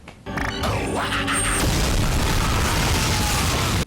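A bomb goes off in the film The One: a deep booming blast that follows a brief rising mechanical whine, then a sustained loud roar of debris and rumble that fills the rest of the moment.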